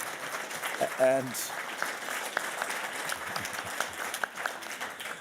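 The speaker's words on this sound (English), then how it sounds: "you're almost getting as much applause as the Ukrainian soldiers" Audience applause at a Davos breakfast event on Ukraine, a sustained roomful of clapping filling the space, with a speaker's voice briefly cutting in near the start.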